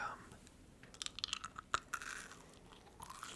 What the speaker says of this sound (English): Chewing as in like a mukbang, or I have brought a chewing gum